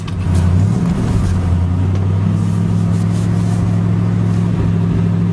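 A 1965 Ford Galaxie station wagon engine runs close by with a steady low hum and a slight rise in revs early on, then a smooth even idle throughout.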